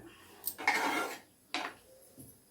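A metal pan set down on a stove while making carrot pickle, two close clanks with brief metallic rattles, followed by a softer knock, alone without speech.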